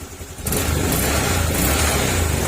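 A Honda Click 150 scooter engine starts up and runs steadily, a close, loud continuous mechanical drone after a brief quieter moment.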